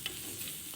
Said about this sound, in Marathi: ढवळून घेऊया छान.